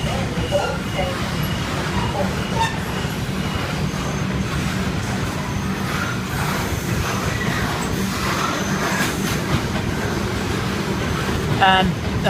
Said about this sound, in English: Unloaded coal train.